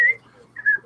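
A person whistles a short tune, two clear sustained notes separated by a brief pause, close and alone.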